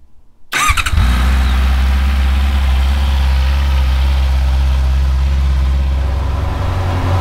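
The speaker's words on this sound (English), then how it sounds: "That's the bike running up now." A 2022 Honda CB650R motorcycle engine after an oil and filter change fires up after a brief silence and settles into a loud, steady idle close by.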